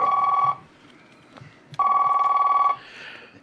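A telephone rings twice with a clear electronic bell tone, each burst separated by a short pause, loud and close with no one speaking.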